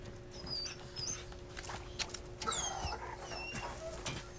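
A dog in Resident Evil 4 whimpers and pants softly in short, repeated whines over a low game backdrop, fairly quiet and close.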